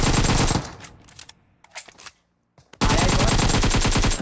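Tommy gun fire in a video game: loud, dense bursts of rapid automatic shots, a long burst at the start, then scattered quieter shots, then another sustained loud burst to the end.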